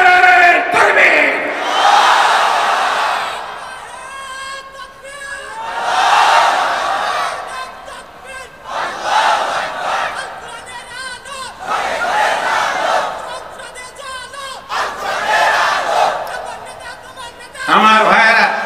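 Rally crowd roaring a takbir chant in response to a speaker, four loud, long collective shouts rising and falling in waves, with brief pauses between them.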